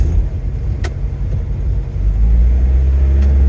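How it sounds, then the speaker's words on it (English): A 1984 Datsun 4x4 engine idles roughly with a steady low rumble, the throttle feathered to keep it running, swelling louder and fuller in the last second and a half, with no talking. "I'm gonna have to feather the throttle to keep her running"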